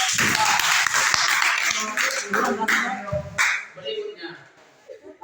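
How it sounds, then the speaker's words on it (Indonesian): A classroom group claps hands in a short burst of applause for a team, loud at first and then trailing off into scattered taps and voices. "Tepuk tangan buat kelompok."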